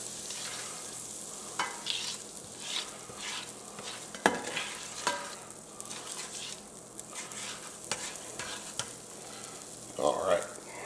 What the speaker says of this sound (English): once this butter's melted, then we're gonna start cooking our patties